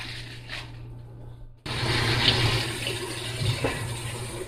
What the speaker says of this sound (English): So in some cold water, I'm just going to go ahead and wash my spinach.